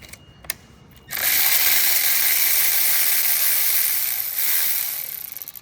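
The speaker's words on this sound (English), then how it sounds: "So even with just an electric ratchet" An electric ratchet spins out E10 Torx bolts on the transmission pan brackets of a Mercedes-Benz W204, starting with a couple of faint clicks, then a loud, close, continuous whirring buzz for about four seconds that tapers off at the end.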